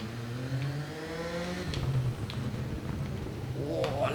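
A racing motorcycle in the Isle of Man TT: Ride on the Edge video game revs, its engine pitch climbing and then easing off into a steady whirring drone. Short mechanical ticks appear now and then over a moderately loud, continuous engine tone.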